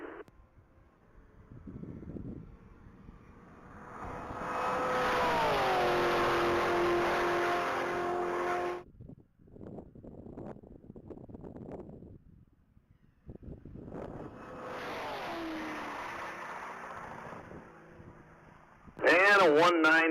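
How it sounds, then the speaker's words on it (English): A 2017 blue Corvette Grand Sport on a Texas Mile top-speed run: a loud engine roars and climbs in pitch for several seconds, fades, then surges again, with wind noise and voices around it. "we got Nikolai Smith back on the line in that 2017 blue Corvette Grand Sport"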